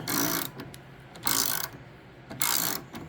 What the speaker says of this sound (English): what I've got here is a 1/2 inch deep well socket, and what we're going to do is just lower it